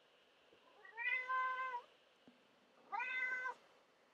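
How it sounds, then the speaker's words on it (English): A house cat meows twice nearby in a quiet room, each call drawn-out and clear, with a soft tap between them and no talking. "It's the time when the cat comes and harasses me."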